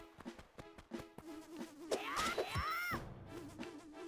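Buzzing of bees around beehives in the Nintendo DS game Phantom Hourglass, a steady droning hum with rising and falling whines, mixed with other game sounds and effects.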